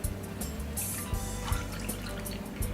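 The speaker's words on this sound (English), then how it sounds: "First step, adding the water, 2 cups of water." Water pours into a cooking pot for vegetable soup, a continuous splashing, gurgling fill with a few brief louder splashes, close by and without voices.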